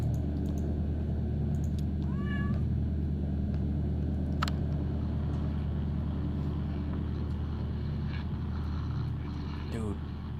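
A cat in the video game Kentucky Route Zero gives a short meow, then another faint one near the end, both heard over a constant low rumbling drone.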